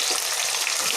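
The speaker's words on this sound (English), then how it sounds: "we'll put some hing and we will saute it some more." Asafoetida sautéing with potatoes in a generous amount of oil, a steady, close, bright frying sizzle that runs evenly through the whole moment with no talk.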